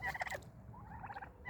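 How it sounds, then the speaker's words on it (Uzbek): Turkeys gobble close by in two quick bursts of rapid warbling calls over a low background rumble. "Induklar."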